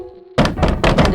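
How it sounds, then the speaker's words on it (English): Heavy pounding knocks on a door as a horror story sound effect, a close, loud series of about four thudding blows in quick succession after a short faint tone. "there was a pounding on the door"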